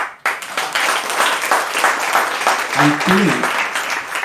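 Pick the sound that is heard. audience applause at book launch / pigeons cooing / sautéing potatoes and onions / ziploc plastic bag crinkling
audience applause at book launch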